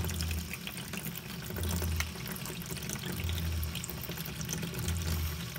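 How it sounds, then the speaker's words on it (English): Hot water runs from an RV tap heated by a gas water heater with a Camco hybrid electric conversion kit, a loud, close, steady gushing stream with no talking. "There's the hot water."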